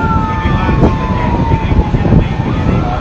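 Wailing fire truck siren sweeping up and down at a house fire in Ususan, Taguig City, sounding steady over heavy crowd noise and low rumble, with a voice breaking in briefly.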